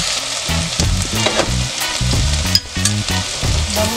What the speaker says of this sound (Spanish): Ahorita ya vamos a mover ya los jitomates junto con la cebolla y el ajo.